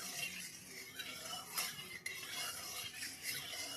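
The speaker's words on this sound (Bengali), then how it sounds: "তো তেলটা আমি এখন ভালো করে নেড়ে নেব" Refined oil stirred in a pan for a vegetarian cauliflower curry, a steady scraping and rasping with a few light clinks of the utensil against metal, close and continuous with no talking.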